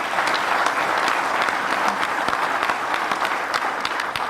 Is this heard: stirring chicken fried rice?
no